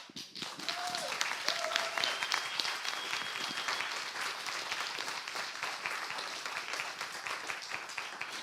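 A room full of summit attendees applauds steadily, dense clapping sustained from start to finish at a moderate, even level.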